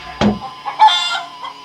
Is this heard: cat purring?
no